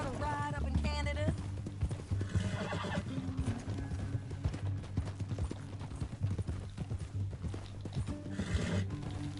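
Horse hooves galloping across a canyon in the Western video game Red Dead Redemption, a steady rhythmic clip-clop with a horse neighing near the start, over background music and with voices talking.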